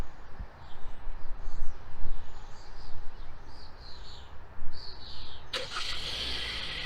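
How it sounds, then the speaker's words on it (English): A 2016–2020 Hyundai Tucson cranks and starts via a remote starter outdoors, engine rumble settling into a steady idle as birds chirp in the background; no talking. "And voila, the car's running."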